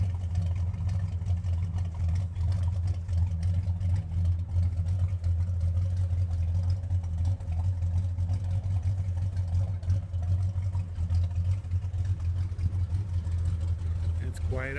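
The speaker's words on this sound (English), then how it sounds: "That's the dual exhaust." A Ford Gran Torino idles with its dual exhaust, giving a steady, low, throbbing rumble that holds close and even throughout, with a faint voice over it.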